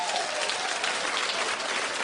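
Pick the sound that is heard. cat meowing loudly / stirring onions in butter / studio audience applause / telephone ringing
studio audience applause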